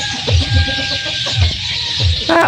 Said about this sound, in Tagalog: Hindi pa nangingitlog itong bantam na babae.